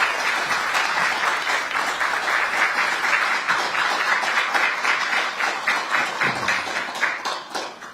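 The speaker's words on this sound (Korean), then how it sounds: "큰 박수를 모셔보겠습니다" Crowd applause at the opening ceremony of the Ministry of Oceans and Fisheries Busan office, loud dense clapping sustained for several seconds before tapering off near the end.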